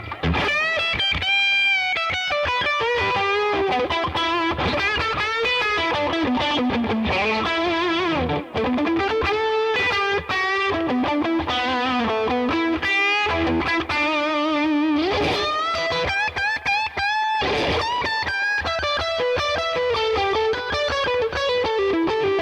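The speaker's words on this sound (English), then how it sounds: "So this one's called Chewy Lead. I'm gonna throw a little compressor on there." Electric guitar played through a dirty, compressed "Chewy Lead" tone, a continuous distorted melodic lead line with sustained bent notes and quick runs, loud and unbroken throughout with no talking.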